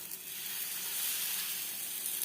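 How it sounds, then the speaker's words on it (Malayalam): Eggless bread slices, dipped in a milk mix and spread with Nutella for French toast, shallow-fry in a hot pan with a dense, even hiss that holds close and steady for a couple of seconds. "2 സൈഡും ഷാലോ ഫ്രൈ ചെയ്തെടുക്കാം കേട്ടോ"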